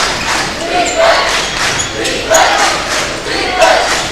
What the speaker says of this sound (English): We've got both fan bases into this cheering offense, defense again